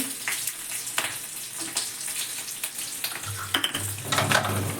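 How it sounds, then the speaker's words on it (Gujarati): Green chillies spitting and crackling in hot oil for a fenugreek leaf dish, with irregular bursts of sizzle and stirring that grow busier toward the end, close and without speech. "હવે આપણે મરચાં નાખી દઈએ એમાં મસ્ત રીતે તળી નાખીએ"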